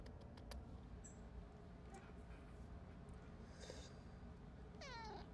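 A pet cat meows softly a few times in a quiet indoor room, with faint rustling around it and no one talking.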